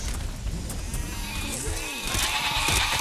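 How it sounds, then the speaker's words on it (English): Sheep bleat in the video game Overlord, a few wavering cries rising over a busy game soundtrack and ambient effects, fairly close and moderately loud. "I hear the bleating of lesser creatures."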